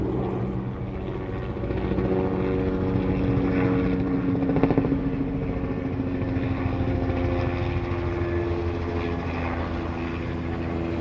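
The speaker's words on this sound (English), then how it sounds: "Yeah, there's another chopper. He's got the water" A firefighting helicopter with water-bucket gear passes overhead with planes, a steady rumbling drone of rotors and engines that swells in the middle and stays loud throughout, with no talk.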